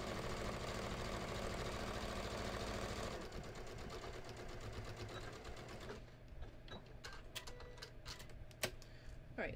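A sewing machine stitches across the pocket of a skort, whirring in a fast, steady buzz at close range, slowing and then stopping partway through before a few short clicks and bursts.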